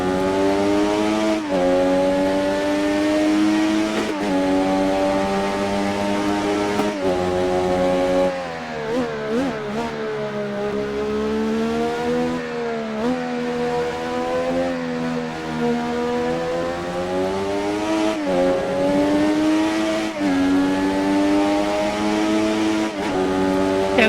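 A Formula 1 car engine in the game Assetto Corsa at Suzuka revs high and climbs through the gears, dipping and surging again and again in a loud, continuous whine with brief shift breaks.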